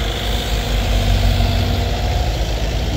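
A CZ11 excavator engine runs steadily up close, a loud continuous idling rumble with a heavy low throb and broad mechanical clatter, no voices over it.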